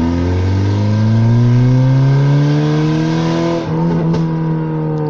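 An Opel 2.0 engine revs hard in second gear and climbs steadily in pitch as it accelerates, loud and close, with a brief dip near the end before pulling again.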